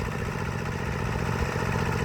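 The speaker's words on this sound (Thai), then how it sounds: "การคาดนาของรถไถเดินตามนะครับรถไถเล็ก" A small walk-behind tractor engine chugs steadily while leveling a muddy rice field after a flood, a continuous rough, clattering mid-pitched drone heard close up without talk.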